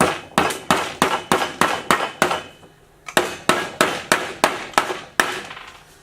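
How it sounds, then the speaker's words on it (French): Hammer blows driving a nail at an angle into a wooden plank, about a dozen sharp, close strikes in two quick rhythmic runs separated by a short pause, with no voices. "Donc vous plantez votre clou légèrement en biais."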